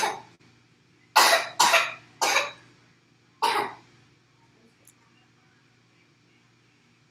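A child coughing nearby, four loud hacking coughs in quick succession followed by a fifth after a short pause, then quiet.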